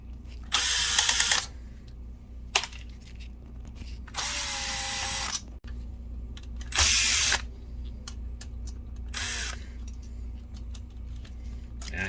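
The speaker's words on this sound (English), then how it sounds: "once we take the screws in the top that hold this metal frame or metal shielding on, that'll just pop right off" Screws being backed out of the metal shielding on a BenQ HT1075 DLP projector with a power driver: several separate loud whirring bursts of about a second each, with quieter clicking and handling noises in between, close up.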